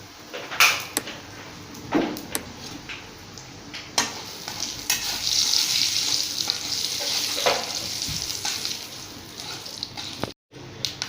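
Chana dal, urad dal and asafoetida frying in hot oil for a spicy tomato chutney tempering, a steady close sizzle with occasional stirring clinks and scrapes, louder and denser in the middle, no talk.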